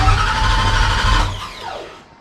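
A Ford Aluminator engine in a Cobra Daytona build cranks and turns over with a loud, dense mechanical whir that slows and fades over the last second.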